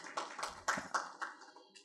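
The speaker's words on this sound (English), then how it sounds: "Ah, you can clap." A small class audience clapping hands, a handful of uneven, fairly quiet claps spread over a couple of seconds with gaps between them, in a room with no talking.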